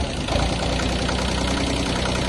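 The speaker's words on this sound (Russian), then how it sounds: "Трактор работает мягко" A Kubota B1-15 compact Japanese mini tractor's engine idles steadily and close by, a continuous low knocking diesel-like rumble with even vibration and no voices.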